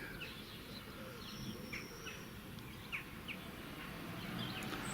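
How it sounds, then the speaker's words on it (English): Faint, scattered bird chirps over a steady low rumble of outdoor background noise, a few brief high calls spread across the clip, recorded in Watchet, Somerset during the 2015 solar eclipse. "Well, there's a bird just flown into a tree."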